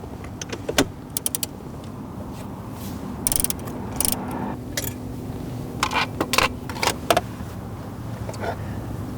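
A ratchet clicks in short bursts as bolts come out of the dash of a 2016-2021 Toyota Land Cruiser, fairly close but quiet over a steady low hum.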